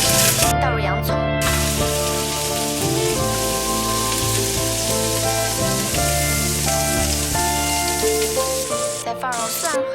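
Onions hiss and sizzle steadily after going into a pot of hot oil, the start of a lamb soup pot, a constant frying crackle under background music.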